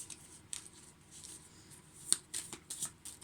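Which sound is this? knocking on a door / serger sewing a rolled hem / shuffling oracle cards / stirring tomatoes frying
shuffling oracle cards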